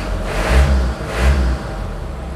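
A car engine warming up runs with a steady low rumble that swells twice in quick revs before settling back, close and fairly loud with no voices.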